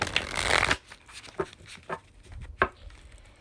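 Tarot cards being shuffled: a dense burst of riffling and flicking up front, then a few scattered soft taps and card slaps spaced apart, close and fairly quiet with no voices.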